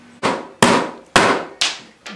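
Five sharp hammer blows strike a plum stone, each a loud crack with a short ringing decay, spaced unevenly.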